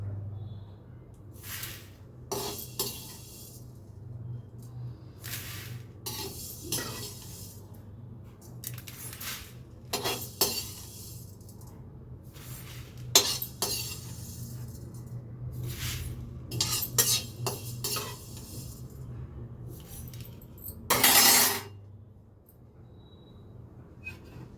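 A spatula scrapes and clatters in a very hot kadhai in irregular bursts, with one louder sharp rattle near the end over a low steady hum of the stove; no speech.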